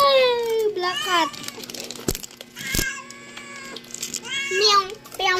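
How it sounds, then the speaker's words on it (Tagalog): A black cat gives several loud, drawn-out meows with clear rising and falling pitch, close up, alternating with people speaking Filipino and a couple of sharp knocks in between. "Ay, Black Cat."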